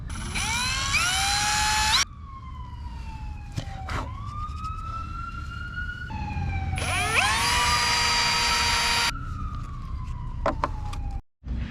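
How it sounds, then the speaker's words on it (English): A power drill whines at high pitch in long runs, drilling holes in a Kawasaki 650SX jet ski hull, stopping and restarting, its tone dropping as it bites through, with short clicks between bursts. "Now comes the scary part, actually drilling."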